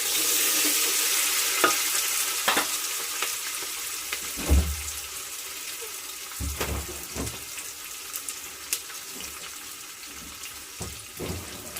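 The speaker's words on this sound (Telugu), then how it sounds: "ఈ స్టేజ్లో మనం కొంచెం ఉల్లిపాయలు, పచ్చిమిర్చి చీలికలు వేసి ఒక్క నిమిషం కలిపి." Sliced onions and green chilies fry in a pan with a steady hiss, broken by a few dull thumps and scrapes as they are stirred.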